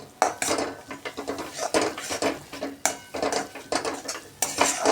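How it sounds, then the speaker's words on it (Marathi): Dry spices being stirred in a kadai for a dhaba-style veg Maratha kofta gravy, with repeated metal scraping and clinking of a spoon against the pan in an irregular, close rhythm. "ते पण आपण छान असे मिक्स करून थोडा वेळ हलवत राहायचं."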